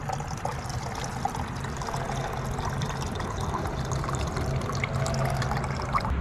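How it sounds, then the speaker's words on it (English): Fuel pours steadily from a boat's fuel system into a clear cup in a continuous trickle, close by, with a low gurgling undertone throughout. "pour it into a clear cup and see what comes out"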